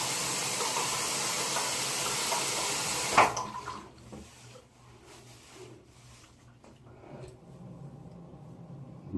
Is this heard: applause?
no